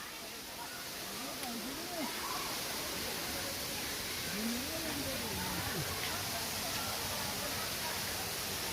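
Devchuli waterfall in Nawalpur gives a constant soft, hissing rush of falling water that stays even and fairly distant, while people talk over it now and then.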